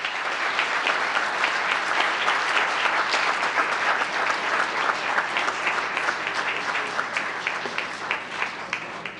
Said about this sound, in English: please give them another big round of applause